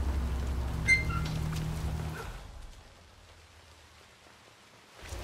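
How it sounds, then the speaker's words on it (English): Steady rain falling in a Hitman 3 game scene, a dense wash of patter that is louder at first, then drops to a softer, thinner hiss before swelling again at the end, with faint background game sounds and no talk. "Rain, rain, nothing but rain."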